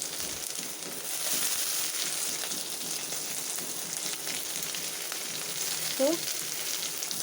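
Chopped onions fry lightly in hot oil with a steady, even sizzle close by, and a faint brief knock shortly before it ends.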